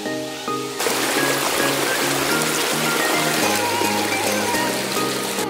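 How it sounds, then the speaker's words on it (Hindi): Water pours down from the hills at Devdhara waterfall in Janjgir-Champa, Chhattisgarh, bursting in after a brief lead-in as a dense, continuous rushing hiss over faint sustained tones. "ये जो बहता हुआ पानी आप लोग देख रहे हैं ये पहाड़ों से होता हुआ सीधे नीचे की तरफ आ रहा है।"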